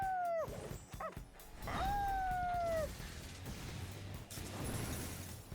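Dog howling in the Persona 3 Reload video game: a few drawn-out, falling howls, the longest in the middle, followed by clanking effects and a low rumble.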